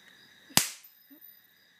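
A capacitor discharge fires a foil projectile in a single sharp, loud crack that decays quickly against a quiet background with a faint steady hum.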